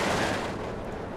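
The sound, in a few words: heavy artillery fire in the video game Steel Division II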